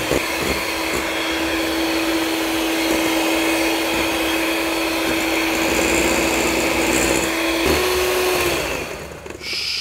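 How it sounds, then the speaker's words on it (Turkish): An electric mixer whisks eggs and granulated sugar for a beet cake, giving a loud, steady whirring drone for about nine seconds before it winds down at the end; no one speaks. "Yumurta ve toz şekeri çırpıyoruz."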